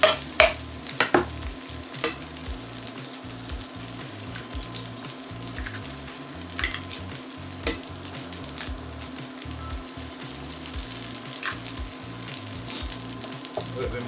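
Eggs frying in a pan for Jamaican egg fried rice give a soft, steady sizzle with scattered light ticks and a few utensil taps near the start, fairly quiet throughout.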